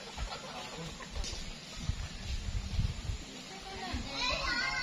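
A rooster crows among chickens settling to roost high in a mango tree in the late afternoon, its harmonic call rising near the end over a bed of children's voices and outdoor chatter.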